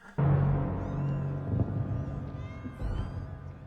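Meowing cats from the decorative cat plates in a Harry Potter film, several overlapping meows and caterwauls rising after a sudden start, fairly loud and close over a faint background.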